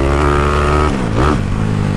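A Honda Today scooter engine revs hard on a dynamometer, a loud buzzing drone that dips and then climbs again in pitch, close up with no voices.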